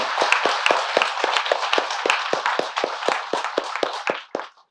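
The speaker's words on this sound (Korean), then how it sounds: "동참해 주신 모든 분들께 박수를 보내드리도록 하겠습니다." A group claps steadily at a Buddhist temple dharma ceremony, sharp individual claps ringing out in a loose rhythm before tapering off and stopping.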